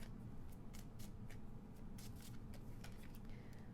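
A deck of tarot-style cards is shuffled by hand, giving a string of quick, soft riffling and flicking bursts over a low steady background hum, close and without speech.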